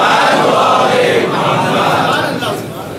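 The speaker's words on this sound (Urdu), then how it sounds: "دیکھیے ماشاء اللہ یہ بچے نعرے لگا رہے ہیں" A group of children loudly chant slogans in unison at a crowded religious gathering, a dense, raised chorus of voices that carries close and steady before easing slightly at the end.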